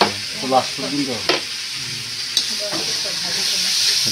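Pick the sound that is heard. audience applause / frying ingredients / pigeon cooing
frying ingredients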